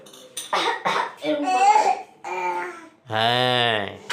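A child coughs a few times between bursts of babbling and vocal sounds, ending on a drawn-out voiced note.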